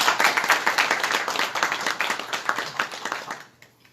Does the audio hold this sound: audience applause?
yes